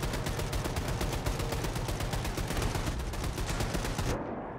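Rapid, sustained automatic gunfire from Wolfenstein II: The New Colossus, a dense, loud stream of shots without pause that cuts off abruptly near the end.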